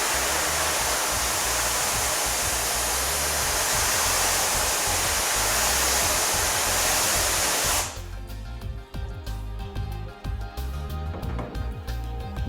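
Water rinsing unexposed emulsion out of a screen-printing mesh screen, a loud steady spray hiss that cuts off abruptly partway through, leaving quieter clattering and dripping handling sounds.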